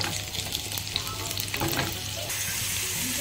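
Fara dumplings of flour and urad dal, cut into small pieces, fry in ghee with cumin seeds, producing a close, busy sizzle with a few stirring scrapes and no speech.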